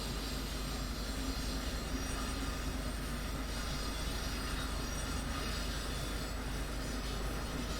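A long Northeast Regional passenger train rolls along in Train Sim World 2, a steady loud rumble of wheels on rails with continuous hiss and faint squeal, unbroken throughout.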